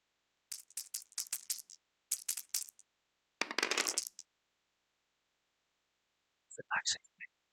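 Dice rolling in a wargame board game, several quick rattling clatters in bursts followed by a longer tumbling rattle, then quiet; soft voices murmur near the end.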